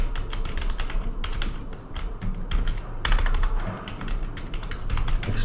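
Rapid, uneven keystrokes clatter on a computer keyboard close by as text is typed, coming in short bursts with brief pauses and no talking.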